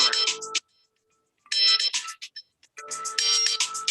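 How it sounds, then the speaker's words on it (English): A cell phone ringtone rings out for an incoming call from an unknown number, a loud melodic chime repeating in bursts with short silent gaps between them. "So what you hear right now is Charles' cell phone"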